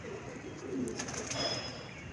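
Pigeons in a rooftop loft coo softly and steadily against a constant background hum, with a few faint bird chirps and no voices.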